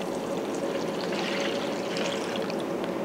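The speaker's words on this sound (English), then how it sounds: "I weigh out the cereal, pour this in a strainer, and immerse it in the milk" Breakfast cereal poured into a strainer and immersed in milk for a texture test, a continuous close rustling pour with a liquid trickle, steady and fairly loud, no voices.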